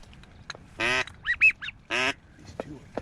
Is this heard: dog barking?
no